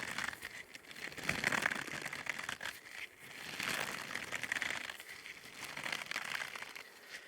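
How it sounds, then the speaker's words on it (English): A sponge scrubber is handled up close for ASMR, giving crisp crinkling and scratchy rustles in uneven waves, fairly loud against a quiet background. "we're going to do some interesting sounds with this here sponge scrubber type thing"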